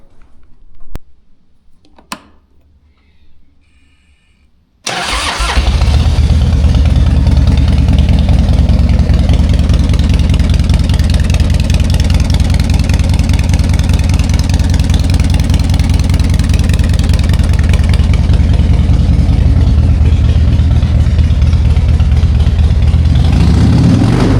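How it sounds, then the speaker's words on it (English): A Harley-Davidson Fat Boy motorcycle starts after a few quiet seconds of handling, then idles with a loud, steady, deep rumble that continues close by with no talk. "I just start it up once in a while, make sure that it's running"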